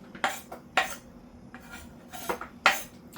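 Sliced peppers and onions are dropped and shuffled into an aluminum pan, producing several sharp, close metallic rattles and clinks spaced irregularly, with quieter handling noise between them and no talking.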